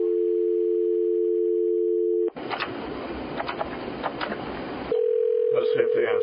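A telephone line rings out on a call to Kentucky Fish and Wildlife: a steady tone at first, then a burst of noisy line static, then a ringback tone that returns, close and clear.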